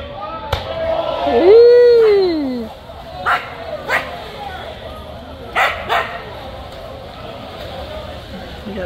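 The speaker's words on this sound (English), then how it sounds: "We got dogs over here." Near a river, a dog lets out a long rising whimper and whine, followed by several short sharp barks and yips, loud and close.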